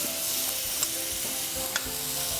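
Tomatoes sizzle and fry in a hot pan as a spoon stirs them, with steady crackling and a few sharp scrapes against the metal, close and fairly loud, with no voices.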